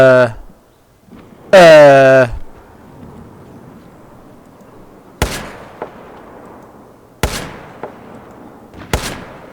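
A grenade launcher fired in the game Battlefield 4, sharp booming shots spaced several seconds apart, loud and close over a low hum. A voice talks briefly near the start, before the shots.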